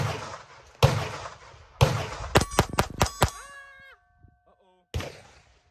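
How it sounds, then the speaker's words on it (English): A .22 LR pistol emptied in a quick magazine dump: two opening shots, then a rapid burst of sharp cracks, each with a metallic ringing after it, followed by one more shot. "Let's get a little quick mag dump"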